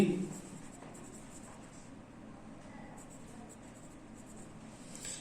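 Chalk or marker scratches faintly across a board during a maths geometry lesson on triangles, quiet intermittent strokes in a hushed room with a little faint background noise.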